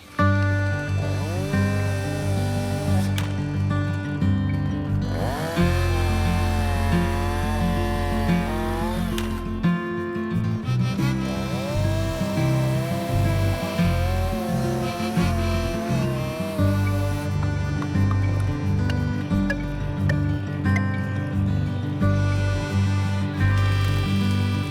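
Husqvarna chainsaw with Trio Brake making a bore cut, plunging the tip of the bar into wood: a loud, steady engine drone that revs and bogs in repeated surges under load, close and continuous throughout.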